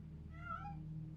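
A cat in a video game gives a single clear meow, faint and brief, over a low steady background hum.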